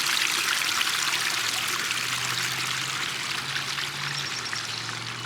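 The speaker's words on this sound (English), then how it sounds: "We got a little water here flowing into the culvert." Water trickles and pours steadily into a culvert at a pond in Whatcom Falls Park, making a soft, continuous outdoor flow with no voices.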